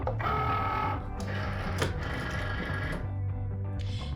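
A Cricut cutting machine draws a medium grip mat holding a printed sticker sheet inside, a steady mechanical whirring hum with a brief clunk midway, close and continuous with no talk.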